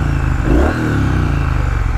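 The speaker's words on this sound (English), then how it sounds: "That engine, that beautiful engine." Motorcycle engine close by, idling with a rough rhythmic pulse, then a quick rev that rises and falls before settling back to a steady idle.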